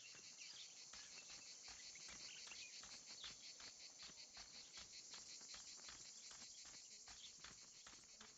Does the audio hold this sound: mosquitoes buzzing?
yes